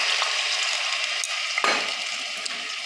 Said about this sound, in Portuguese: Agora é só mexer um pouquinho